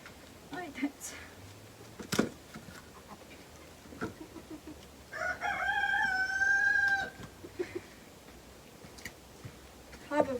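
A rooster crows once, clearly and at moderate distance, for a couple of seconds while hens cluck softly around it, with sharp knocks and scattered farmyard noise before and after.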